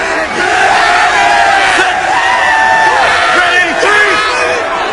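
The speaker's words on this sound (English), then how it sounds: "It doesn't take a whole lot to get a New York crowd excited." A New York crowd at an XFL football stadium roars and cheers in a dense, steady wall of noise with whoops and shouts, loud and sustained throughout.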